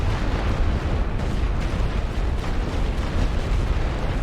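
Artillery barrage in the WWI strategy game The Great War: Western Front, a dense continuous rumble of overlapping booms and bursts, loud and sustained with no talking.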